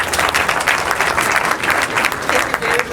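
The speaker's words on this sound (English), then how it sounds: "Let's give a thunderous round of applause." An audience at a national schools deposit prize draw breaks into loud, thick applause, many hands clapping continuously and close, with some voices murmuring underneath.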